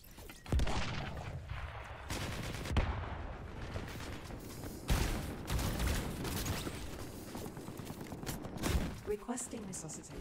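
Rapid gunfire crackles in bursts across a large-scale first-person shooter battle in LEAP, with several sharp loud shots and busy combat noise, and people talking over it.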